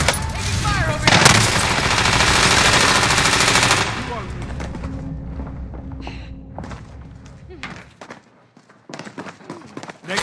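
Machine gun fire from Call of Duty: Modern Warfare, loud dense automatic bursts with thuds for about four seconds, then sparser distant shots and scattered impacts.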